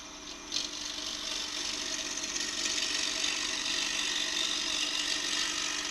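Bowl gouge cuts into a wooden bowl spinning on a woodturning lathe, a steady breathy scraping whoosh over the low hum of the motor, continuous and even, close by with no talking.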